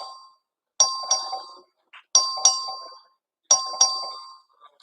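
A chamber bell rung by the clerk to open a recorded vote on the Texas House floor, sounding as three clear paired double strikes, each ding-dong ringing out and decaying, spaced evenly with silence between.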